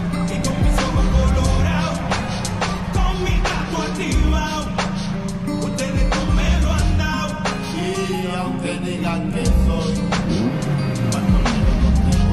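An American muscle car revving and racing, its loud engine roaring continuously up close with shifting pitch and no speech over it.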